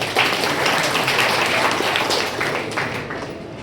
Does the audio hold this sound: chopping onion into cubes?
no